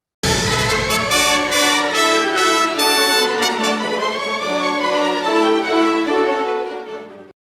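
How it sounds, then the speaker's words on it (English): An orchestra plays the Marseillaise passage from Tchaikovsky's 1812 Overture: a bright, full melody with a few punchy accented notes early on, then a sustained brassy line that fades out after roughly seven seconds. "The second musical work which is found inside the Overture is the French national anthem, the Marseillaise."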